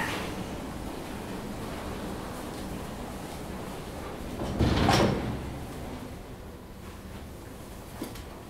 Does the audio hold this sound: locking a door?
yes